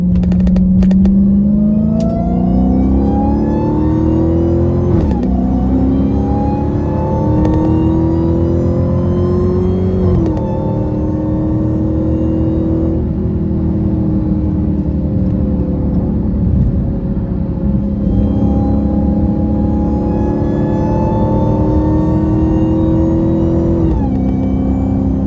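Dodge Charger Hellcat fitted with a Borla ATAK exhaust roars at full throttle, its engine note rising through repeated gear pulls with short dips between shifts, loud and continuous throughout.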